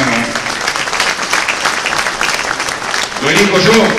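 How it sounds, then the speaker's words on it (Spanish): Applause ripples through the crowd at a livestock auction, a loud, continuous patter of many hands that swells slightly near the end, with voices murmuring underneath. "Un aplauso para Marcelo, que siempre nos da una mano."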